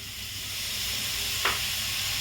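Chopped tomatoes hit hot roasted gram flour in a pan, giving a steady soft sizzle with a brief sharper burst of hiss midway, close and alone.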